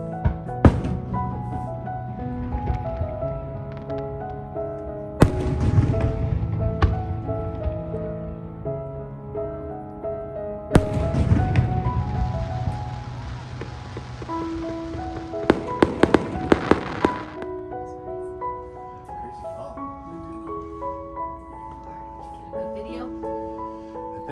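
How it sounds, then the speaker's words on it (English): Fireworks over a small bay at night, heavy booming bursts with crackling showers arriving in waves, loud and reverberant over water, with several sharp cracks near the middle and a rumbling tail. "there was an unexpected fireworks display right there in the little bay next to us"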